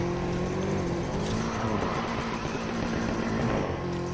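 Car drifting in a video game, a sustained engine roar with tire squeal running continuously at steady loudness, close and alone without talk.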